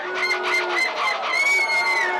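A person imitates a seagull call at a carnival contest in Dunkirk, France, producing a loud, continuous squawking, crowing-like cry with wavering pitch that fills the whole moment.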